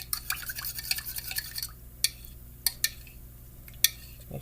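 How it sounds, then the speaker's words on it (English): Whisking egg yolks in a bowl with yeast for fresh-baked rolls: rapid, irregular clicking strokes of a utensil against the bowl, close and fairly quiet, in a burst of quick taps followed by a few sparser, sharper knocks. "Break those yolks up"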